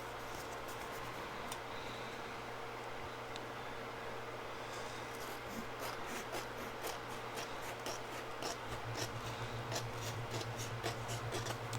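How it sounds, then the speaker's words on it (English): Fiskars Arthritis Scissors cutting paper: soft, close snipping and rustling with quiet irregular ticks, growing busier toward the end over a low steady background hum. "These are the Arthritis Scissors from Fiskars."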